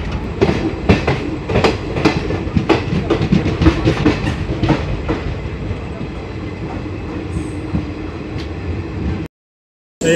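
Paharia Express (15721) running nonstop between Azimganj and Malda Town on the Kolkata to New Jalpaiguri route, recorded from inside the coach: a loud, steady rumble with rhythmic clickety-clack of wheels over rail joints, briefly cutting out near the end.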